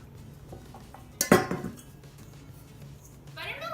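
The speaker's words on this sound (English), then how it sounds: "Can you add the dry ingredients into the carrot mixture?" Dry ingredients stirred into a carrot muffin mixture in a bowl, a sharp clink of a utensil against the bowl followed by faint scraping, with a brief voice near the end.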